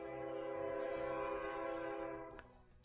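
A passing train with a loud, sustained horn that holds steady for over two seconds, then drops away abruptly as rumbling rail noise continues underneath, with no talking.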